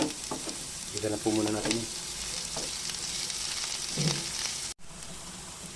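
Garlic and onion sizzle and crackle steadily in a hot pan, with a brief spoken remark partway through, then the frying continues close up after a short break.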